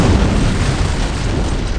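An antimatter charge detonating aboard a starship in Halo, a single loud, sustained boom with a broad rumbling roar that fills the whole clip.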